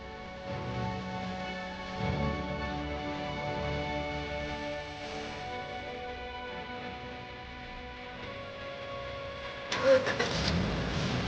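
A car engine turning over and catching, then settling into a low idle with a brief rev, heard moderately close beneath a dramatic music score and faint voices.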